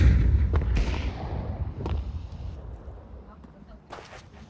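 A bomb detonates in Counter-Strike: Global Offensive as a loud, deep boom that rolls into a fading low rumble, with a few sharp cracks after it.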